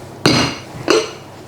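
A spoon scraping and knocking in a baking dish of creamy rice pudding partway through oven baking gives two short, bright clinks about half a second apart, each ringing briefly before fading.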